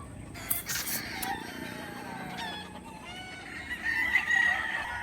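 Chickens cluck and squawk nearby over steady outdoor background noise, with sharp bursts of fowl calls and a few higher cries toward the end.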